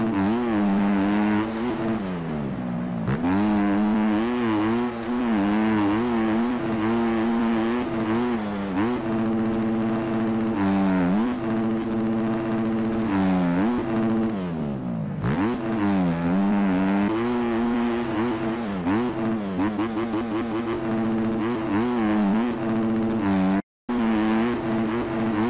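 A 2025 Yamaha motocross bike in the MX Bikes video game revs continuously for the whole stretch, its engine pitch climbing and dropping with each throttle change around the track, loud and steady with one very brief cutout near the end.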